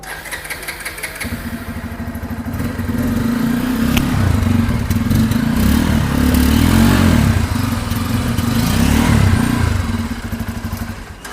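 Bajaj Pulsar F250 motorcycle exhaust, close by, settling from a low idle into a sustained loud rev that swells and holds for several seconds before easing back, with no one talking.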